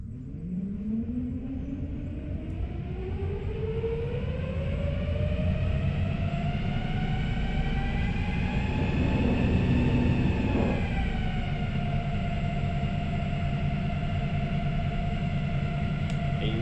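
Boat electric propulsion motor spinning freely under throttle with no load, a smooth whine that rises steadily in pitch as it speeds up, levels off, then drops slightly, over a low rumble with no talking.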